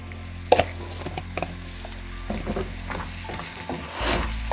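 Onions frying in a pan with a little salt and sugar for an upma breakfast, a steady close sizzle with scraping stirs and a few sharp clicks of a utensil, no talking.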